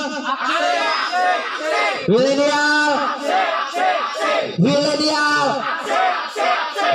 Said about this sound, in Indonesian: Kita yel dulu biar semangat ya kan.